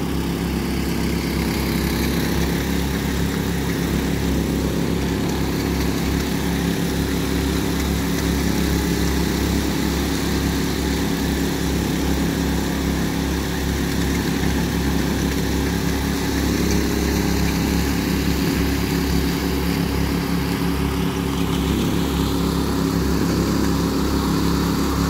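Steady, loud droning engine of a power trowel, a concrete helicopter, smoothing a floor screed on a building job, running continuously without letup.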